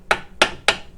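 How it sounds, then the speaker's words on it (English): Three sharp metallic taps of a brass hammer on a Phoenix wheel simulator on a GMC wheel, evenly spaced, close and crisp, each ringing briefly. "I'm going to just tweak it with the brass hammer"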